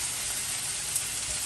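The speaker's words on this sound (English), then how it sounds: "Onions and mushrooms are sizzling away in the pan." Onions and mushrooms fry in a pan, giving a steady, even hiss of sizzling that holds faint and unbroken for a moment.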